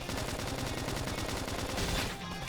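Rapid bursts of gunfire from a combat sequence in the video game Xenoblade Chronicles X Definitive Edition, on West Gate Plain: dense, steady rattling shots run continuously and loud, layered over game music, with no speech.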